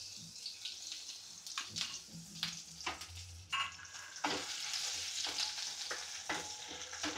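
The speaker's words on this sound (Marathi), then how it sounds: "लसूण चांगला परतवून घ्यायचं असं." Garlic is sautéed in a pan with a steady soft sizzle while a utensil stirs and scrapes at irregular intervals, close and moderately quiet.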